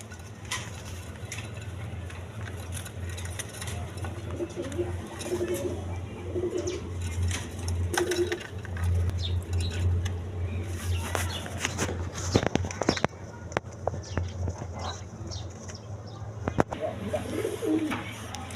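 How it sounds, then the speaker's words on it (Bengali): A pair of fieldback pigeons at a farm loft coo in low rounded phrases while wings flap in brief bursts of sharp rustling near the end, close by and moderately loud. "এখানে এক পেয়ার ফিল্ডব্যাক কবুতর আছে"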